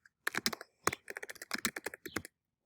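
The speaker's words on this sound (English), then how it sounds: "So I'm going to type that because that'll be easier." Fast bursts of keystrokes on a computer keyboard, close and clear, in quick irregular clusters with brief pauses between words, no talking.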